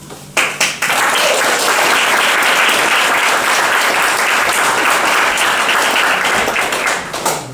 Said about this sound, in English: Will you please give a great round of applause